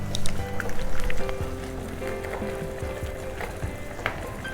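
Tamarind water goes into a pan of cooking vegetables, giving a watery splashing and gurgling over a low sizzle. The sound stays at a moderate, fairly even level throughout.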